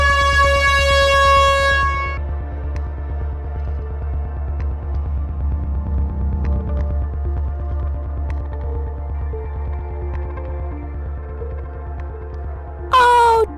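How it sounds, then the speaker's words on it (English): A cartoon air horn spell blasts a loud, brassy honk for about two seconds, followed by a low throbbing hum, then a second short sharp blast near the end. "just an air horn spell that should slow down the villains for a little bit."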